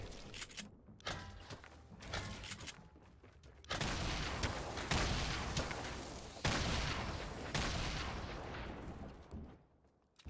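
Fortnite gunfire during a Winter Royale qualifier match, a dense barrage of shots and blasts, several sharp bursts separated by brief lulls, loud and sustained over ten seconds with no voices.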